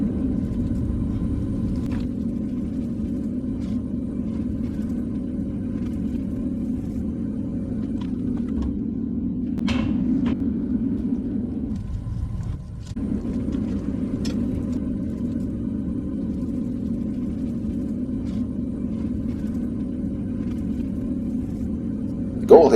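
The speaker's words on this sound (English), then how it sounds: "I'm moving away from my old weed burner setup to this new propane melting furnace" A propane melting furnace burns with a constant low roaring rumble, steady throughout with a brief dip midway and a few faint clicks, loud and close.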